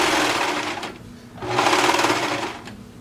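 A sewing machine stitching fabric seams in two steady bursts of rapid mechanical whirring, a short pause between them, close and clear with no talking.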